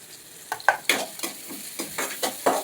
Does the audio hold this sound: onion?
yes